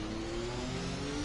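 A Formula 1 car in F1 2021 at the Singapore circuit hums along with a steady mid-pitched engine note while easing out of a corner, ending in a short sharp blip.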